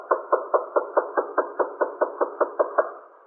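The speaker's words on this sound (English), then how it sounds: "that's the key in the door" A key being worked in a door lock for a 1954 radio police drama, heard as a steady series of about fourteen evenly spaced, close, muffled knocking clicks with no voices.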